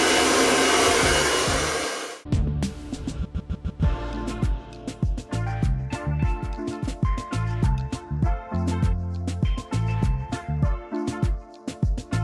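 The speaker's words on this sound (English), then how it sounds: "I dried my hair as best I can" A hair dryer blows a loud steady whoosh for about two seconds, then cuts off. Choppy on-off bursts and rustling follow as the hair is worked through, with some intermittent thumps.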